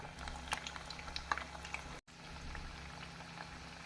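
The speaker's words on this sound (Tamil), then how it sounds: "நாம் எண்ணெயில் பொரிக்கும் போது மிதமான தீயில் வைத்து தட்டையை போட வேண்டும்." Thattai rice dough crackers frying in hot oil over a medium flame, a soft continuous bubbling sizzle with scattered small pops and crackles, close and fairly quiet, with no voices.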